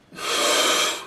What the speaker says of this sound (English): deep breath in, all the way up, stop at the top